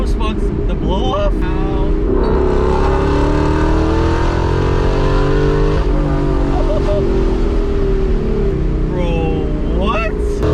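Supercharged Ford Mustang GT engine revving hard with the blow-off valve venting, a loud continuous roar with rising and falling pitch and sharp hissy bursts near the start and end, heard up close.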